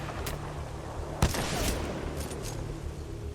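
A single sharp gunshot from Titanfall 2 cracks out close and loud over a steady rumbling game background, with a few fainter bursts around it.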